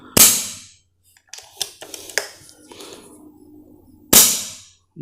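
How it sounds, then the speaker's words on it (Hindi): An AirVenturi Avenger PCP air rifle, charged to 1800 PSI, fires two sharp, loud cracks about four seconds apart, with faint handling clicks and rustles in between. "अब इसको शॉट लगाते हैं।"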